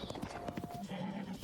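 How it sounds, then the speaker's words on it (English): Horse in the game Zelda Breath of the Wild, galloping hooves in a quick clip-clop rhythm with a short neigh over the top, fairly close and steady. "Let's hope this horse is good."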